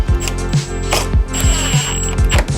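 A ratchet loosening fasteners on the inner bumper piece of a car, quick bursts of clicking pawl strokes repeated several times, close and clear with no voices.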